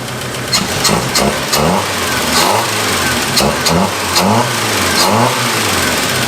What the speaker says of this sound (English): That's a running motor.